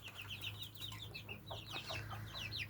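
Bantam hens with their chicks make soft, faint clucks and a steady run of high peeping chirps in a backyard pen, over a low constant hum.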